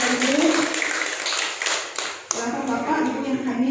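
An audience at a school parents' meeting and best-student announcement applauds in a dense, continuous patter that runs the whole time, mixed with voices.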